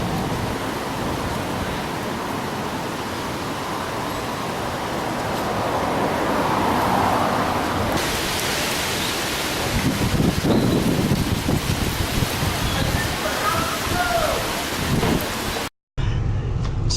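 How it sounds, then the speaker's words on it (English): Strong wind roaring against the microphone during a storm with rain in Grand Forks, British Columbia, a loud constant rush that swells and gusts, then cuts off briefly near the end. "So we just had a big blow, some rain, a little bit of hail I think"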